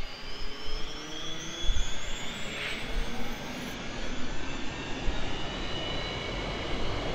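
A helicopter spools up with a steadily rising turbine whine over a rough, rumbling engine roar, sustained and fairly loud with no talking.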